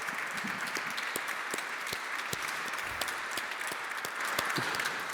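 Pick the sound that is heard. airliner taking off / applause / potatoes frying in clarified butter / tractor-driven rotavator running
applause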